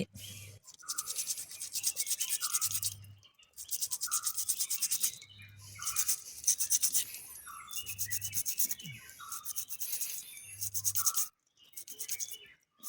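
Rudraksha beads scrubbed with a brush to strip off their pulp, making a close, steady rasping rub in about six long bursts separated by short pauses, with no talking.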